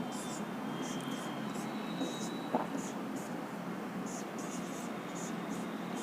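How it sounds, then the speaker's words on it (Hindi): Pen or marker writing on paper or a board while working an alphabet puzzle gives faint, brief scratchy strokes in short bursts over a steady background hiss, close by, with no speech. "तो पहले इसको मैं लिख लेता हूँ"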